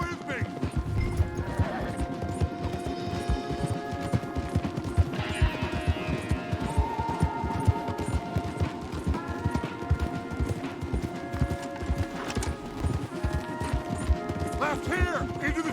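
Horses gallop hard in a video game chase, with dense, continuous clip-clop hoofbeats filling the whole stretch, occasional whinnies, and voices talking over the pounding rhythm.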